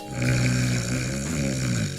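Deep, rasping snoring heard close up, one long drawn-out breath with a throaty grunting texture and no voices.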